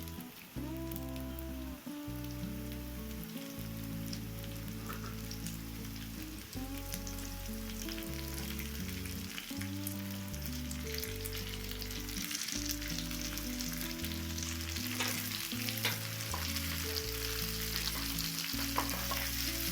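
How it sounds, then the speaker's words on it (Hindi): Chopped vegetables for sambar frying in a pot, a continuous hiss and sizzle with stirring, steady throughout and mixed with faint background music. "इसमें मैं कटा हुआ वेजिटेबल्स डालूंगा सारा, भिंडी छोड़ के।"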